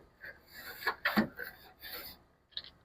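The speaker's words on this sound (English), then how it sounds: "Give our grills a bit of a brush just to clean off that upper surface." Stainless steel brush scrubbing the grill grates of a Masterbuilt Gravity Series grill, a few short, close, raspy strokes with pauses between them.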